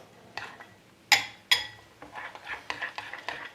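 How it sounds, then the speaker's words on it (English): Spoon or whisk stirring a CC Moore fishing-bait dip mixture in a bowl, with a few sharp clinks against the side, then steady scraping and tapping, close and fairly quiet. "And just keep mixing this around really good."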